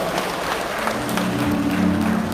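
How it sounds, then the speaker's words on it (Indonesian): Applause rises from the congregation at a Jakarta healing service, a steady wash of clapping carried along by sustained music or a held tone underneath. "Yang sudah hilang sakitnya tolong tepuk tangan."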